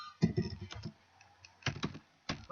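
Close computer keyboard typing comes in three quick bursts of crisp key clicks separated by short pauses, with no talking.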